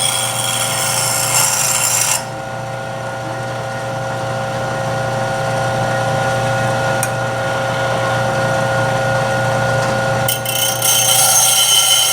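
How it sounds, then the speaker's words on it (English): Sharpening a hollow form woodturning tool to touch up its back bevel and remove burrs gives a steady grinder drone with a constant hum. The tone shifts briefly a couple of times, and there is no speech. "I'm going to go back and touch up that back bevel again a little bit"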